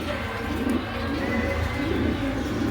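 A pair of Madrasi pigeons coos softly and steadily, their low rounded calls repeating close by over faint background noise.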